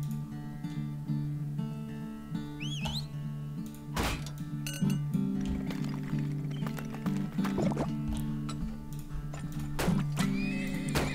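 Horses in the video game Turmoil whinny repeatedly over steady clip-clopping hooves, set against a looping game music bed with a faint liquid trickle.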